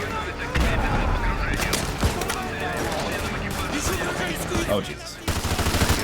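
Dense in-game gunfire and explosions from the Modern Warfare 2 gunship-style missile sequence, a continuous loud barrage with a brief lull near the end, while a voice exclaims over it.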